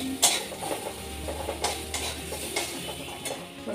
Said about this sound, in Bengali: মোটামুটি ফ্রাই করা হয়ে গেছে